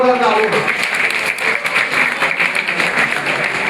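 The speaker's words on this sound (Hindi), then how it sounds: "एक बार शिवम के लिए जोरदार तालियां।" Loud applause from a school quiz audience for a class plus-two student contestant, a dense steady wash of clapping over nearly four seconds with a voice speaking near the start.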